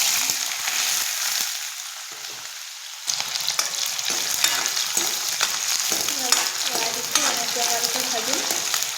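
Two bay leaves and two dried chillies sizzle in hot oil in a home kitchen pan for a chicken dish, a steady close crackle that grows louder partway through, with light stirring.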